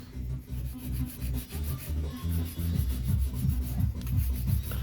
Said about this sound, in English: I'm using a 240 grit file too